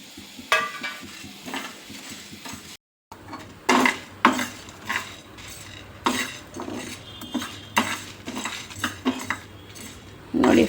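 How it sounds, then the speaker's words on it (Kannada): Fennel, cumin, cinnamon, cloves, pepper, coriander and dried chillies are dry-roasted in a pan for mutton sukka masala, with repeated metal spatula scrapes and clinks and faint crackling, briefly pausing once, with no talk. "ಸೋಂಪು, ಜೀರಿಗೆ, ಚಕ್ಕೆ, ಲವಂಗ, ಮತ್ತು ಮೆಣಸು, ಧನಿಯಾ, ಒಣಗಿದ ಮೆಣಸಿನ್ಕಾಯಿ, ಇಷ್ಟೂ ನಾನೀಗ ಡ್ರೈ ಫ್ರೈ ಮಾಡ್ಕೊಬಿಡೋಣ"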